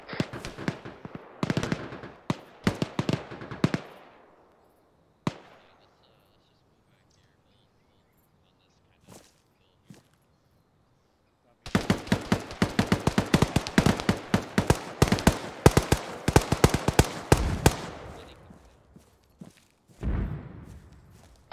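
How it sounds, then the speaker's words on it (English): Friendly mortar fire in the ArmA 3 military game: repeated loud booming bursts and crackling volleys, an opening cluster, a long quiet gap with isolated thumps, then a dense sustained barrage with many rapid reports. "Friendly mortars going up."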